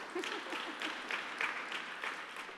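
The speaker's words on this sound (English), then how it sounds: "You can clap for that." Applause from the audience at a press club awards dinner, a soft, steady patter of many hands clapping at a distance for a few seconds with no voices over it.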